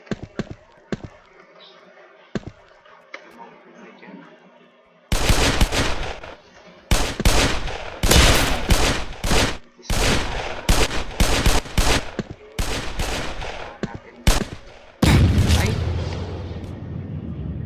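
Rapid bursts of loud video game gunfire ring out in quick volleys with short gaps, following a quieter stretch of low background noise and faint sounds.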